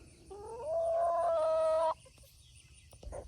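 Backyard chickens at their coop give one loud, drawn-out, tonal call lasting over a second, then low background rustling and a faint thump.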